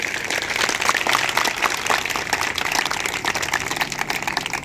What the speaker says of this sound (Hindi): जोर से इस बात के लिए तालियां लगा दीजिए।